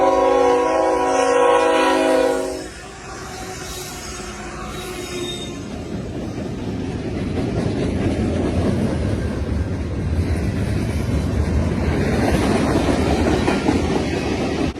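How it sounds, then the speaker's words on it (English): A freight train with GMD1 units trailing behind the lead locomotives gives a horn salute as it passes, heading for Winnipeg. The loud, sustained horn blast lasts about two seconds, then the steady rumble and clatter of the cars rolls on nearby. "The engineer gave me a horn salute."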